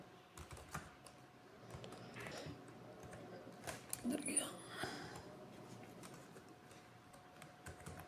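Code being typed on a computer keyboard during a JavaScript tutorial: faint, scattered key clicks in irregular bursts under quiet speech.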